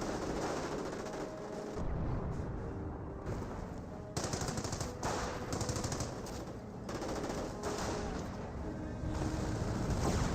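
Dense, rapid machine-gun and rifle fire crackles almost continuously in a World War II battle in Company of Heroes, with bursts overlapping and brief lulls, loud and chaotic throughout.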